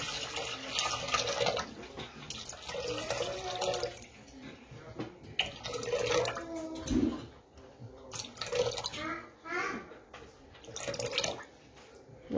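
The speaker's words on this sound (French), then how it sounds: "On nous dit de placer 600 g d'eau dans le bol du Compact Cook." Water pours into the bowl of a Compact Cook food processor in a steady splashing stream, close by, stopping and restarting in short bursts over several seconds.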